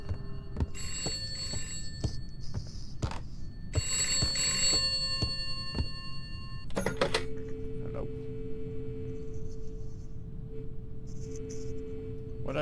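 An old-style telephone bell rings in a horror video game, repeated metallic bursts giving way to a steady electronic tone, with talk in the background.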